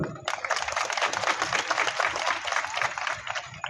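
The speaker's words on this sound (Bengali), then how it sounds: "স্বপনদার জন্য জোরে তালি" A crowd at a political rally claps loudly for Swapan-da, a dense, steady burst of applause that starts abruptly and carries on throughout.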